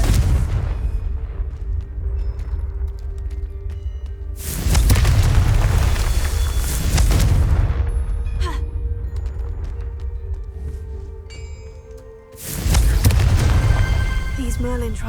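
Confringo blasting spells in Hogwarts Legacy go off as two loud, deep booming explosions spaced apart, each leaving a decaying rumble, with a voice heard in between.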